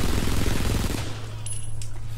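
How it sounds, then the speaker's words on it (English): Rapid bursts of gunfire in Frontlines: Fuel of War rattle in quick succession, dense and loud, then give way to a steadier hum with a couple of faint electronic blips. "Seeing gunfire coming from above"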